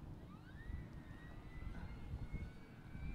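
The motor of an FMS 1400mm Kingfisher RC model airplane runs with a thin rising whine over a low rumbling wash, fairly faint and steady.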